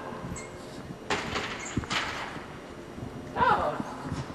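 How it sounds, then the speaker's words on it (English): A door is pushed shut in a high school room, giving a couple of sharp knocking bangs amid scuffling and people talking nearby. "Why are you shutting the door?"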